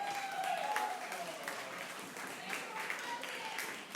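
An audience at a story night applauds, with steady clapping and faint cheering heard through the room while a voice calls out briefly over it.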